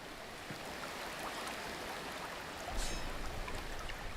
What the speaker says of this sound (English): you can hear that sound follow in the river